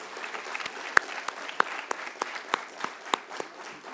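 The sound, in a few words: audience applause for the core team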